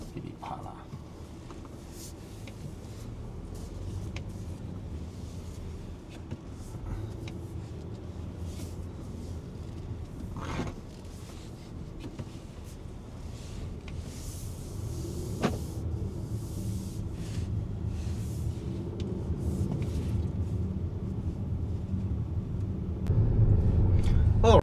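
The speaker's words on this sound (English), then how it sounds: "I am driving the brand new familiar Volvo XC90" A brand new Volvo XC90 driving along, its low steady road and engine rumble heard from inside the cabin beneath a person talking, with a few faint clicks.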